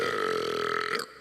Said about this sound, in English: after a loud belch